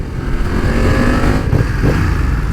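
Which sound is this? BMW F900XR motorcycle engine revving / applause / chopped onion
BMW F900XR motorcycle engine revving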